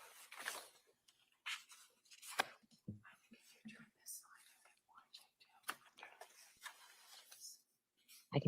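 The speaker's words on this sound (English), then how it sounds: "I can hear paper rustling." Soft paper rustling and handling noises come in short, scattered bursts, quiet and close, mixed with faint whispery sounds and small clicks in an otherwise hushed room.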